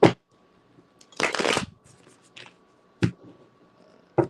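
Tarot cards shuffled by hand in several quick bursts, riffling brisk and close with short pauses between, no talking over them.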